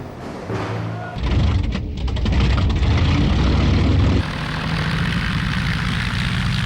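Propeller engines of WWII aircraft drone loudly, a heavy low rumble that swells after the first second, holds strong, then eases slightly toward the end, suggesting bombers approaching over London's docks.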